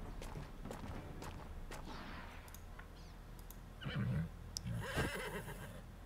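A horse in the Wartales video game whinnies in a short, fairly close call, set among faint game effects and scattered clicks and thumps.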